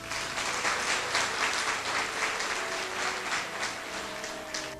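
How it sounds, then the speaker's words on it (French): An audience at a French debate event applauds itself in a dense, even wash of clapping that holds steady throughout, with no talk over it. "j'aimerais que vous puissiez applaudir pour vous-même"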